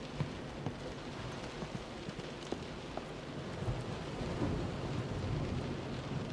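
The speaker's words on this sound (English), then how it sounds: "That actually really does look like it's raining." Steady rain with thunder rumbling throughout in the video game Close to the Sun, the downpour swelling slightly louder in the second half, with no voices.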